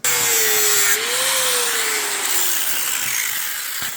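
A power tool grinds a bevel along the metal edges of armoured vehicle plate, a loud continuous abrasive hiss with a whining tone that dips and rises slightly, close and without talk.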